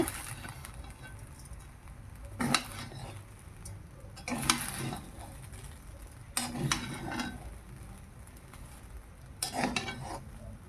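Sugar is stirred into white fried rice in a pan, four separate bursts of close scraping and rustling with a light sizzle between them.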